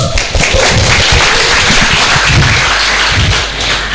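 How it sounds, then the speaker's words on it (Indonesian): A student audience at a campus talk on the importance of organisations breaks into applause, dense loud clapping that fills the room steadily for several seconds before easing slightly. "Beri tepuk tangan dulu"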